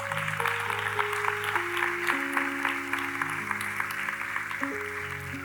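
A church congregation applauds together, a dense steady patter of clapping over sustained keyboard or organ chords that shift pitch throughout.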